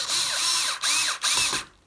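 A power drill drives screws into a wooden pedalboard, three whirring bursts with rising and falling pitch separated by short pauses, close and loud.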